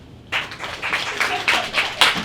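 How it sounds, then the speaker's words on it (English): Audience at a cabaret-style show applauds a magic act, a burst of clapping starting abruptly and sustaining with uneven peaks for about two seconds, fairly close and lively. "A round of applause for magic."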